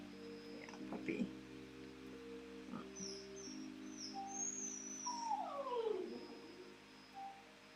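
A puppy whimpering and howling indoors, with faint drawn-out whines and one rising then falling howl, plus some low hum and clatter in a quiet room.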